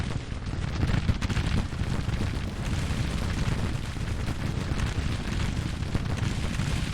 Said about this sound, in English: The artillery should be ripping holes